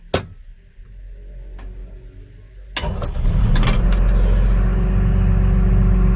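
A Cummins diesel engine cranks and fires at about three seconds, settling into a loud, steady, deep idle rumble after a quieter stretch of cabin noise with a couple of faint clicks.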